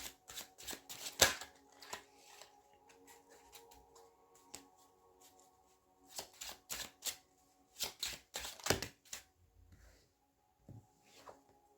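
Tarot cards being shuffled and drawn by hand, sharp riffling bursts in clustered runs with pauses, close and soft, against a faint steady hum.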